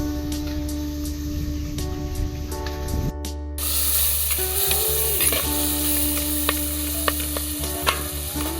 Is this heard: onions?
yes